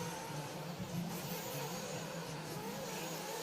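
A race car engine drones steadily on the track during a night main event at the Silver State Championship, heard from a distance as a continuous mid-pitched roar.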